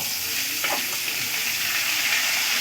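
Chopped onion and grated potato fry in hot oil with a constant close hiss and soft crackle, and a couple of brief stirring scrapes come through partway.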